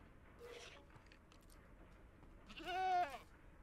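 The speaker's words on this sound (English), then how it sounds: "That goat just ran me." A goat in Minecraft bleats once with a short, wavering cry, loud and close, after scattered faint thuds and rustles.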